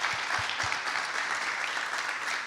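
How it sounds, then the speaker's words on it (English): A summit audience claps steadily in dense, even applause that fills the whole short stretch, close and fairly loud with no voices on top. "A round of applause for Bob, please."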